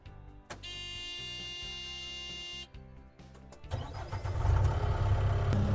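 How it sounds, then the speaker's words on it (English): A steady electronic beep drones for a few seconds, then the diesel engine of a JCB 1CXT compact backhoe loader cranks and catches, settling into a loud, rough idle. "As soon as that beep stops, then you can ignite it and start the machine."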